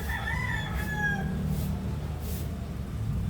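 A rooster crows once, clear and fairly close, its long call rising and falling over a low steady background hum.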